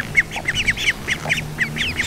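Several ducks quack in a quick, uneven series of nasal calls, fairly close and clear over faint background noise, with no talking.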